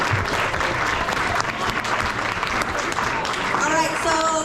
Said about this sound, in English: Another hand of applause for our cheer team.